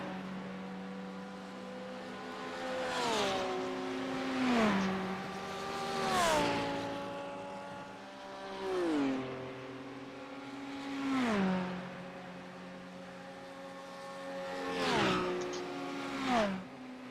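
GT3 race cars at Le Mans, heading down the straight after the Mulsanne Kink, pass one after another with engines rising and falling as each sweeps by. The pass-bys are loud and come in steady succession with no talk.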